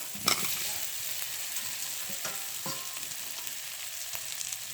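Boiled potatoes drop into a cooked-down spice paste in hot oil in a village kitchen, and a steady close sizzle follows, broken by a few light clanks and scrapes.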